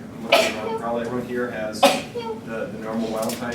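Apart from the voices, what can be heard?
sneeze in a lecture room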